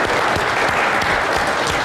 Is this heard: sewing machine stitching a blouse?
no